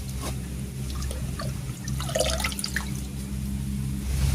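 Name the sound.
washing kanai greens in water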